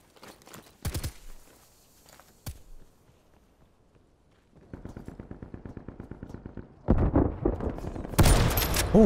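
Akimbo Marshal shotgun pistols fire in a video game with sharp, heavy blasts and rapid bursts, separated by quieter movement and footstep sounds and growing louder near the end.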